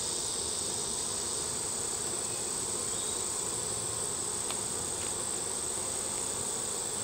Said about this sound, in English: So many bees in here.